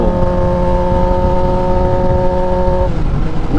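A 1000cc super naked or sport bike engine hums steadily while being ridden, a loud, close, even drone with strong harmonic tones that dip slightly in pitch near the end.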